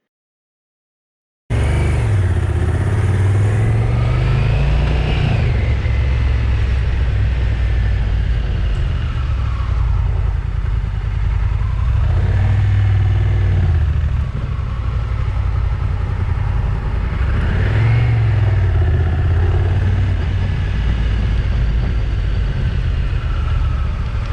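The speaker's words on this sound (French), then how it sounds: "entendre le moteur du bicylindre et ce que fait le DCT au premier démarrage" A 2024 Honda Africa Twin 1100 twin-cylinder motorcycle engine with DCT starts after a moment of silence and settles into a loud, steady idle, with its pitch rising and falling in a few revs.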